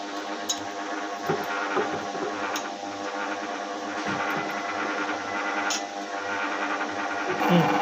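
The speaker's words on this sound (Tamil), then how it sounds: "அரிசியை போட்டாச்சு அரிசி நல்லா ஆட்டட்டும் நல்லா ரவை பதத்துக்கு" A wet grinder grinds soaked rice for idli batter, giving a steady mechanical hum and rumble with faint rhythmic knocks throughout, close and unbroken.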